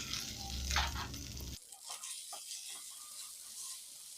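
Onions, tomatoes and a green chilli sautéing in a pan for a spicy chicken dish, a dense sizzle that cuts off abruptly, followed by quieter scattered stirring and frying crackles.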